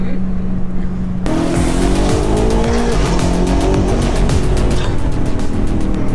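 A BMW M5 Competition tuned to 820 hp accelerating hard, its loud engine note rising through the gears with tire squeal, heard close and continuously from start to finish.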